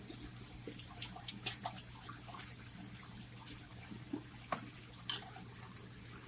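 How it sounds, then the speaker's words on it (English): Liquid bacteria treatment is poured into aquarium filter biomedia, giving a faint, sparse trickle with scattered soft drips over a quiet, steady background hum. "Pouring it right through into my biomedia."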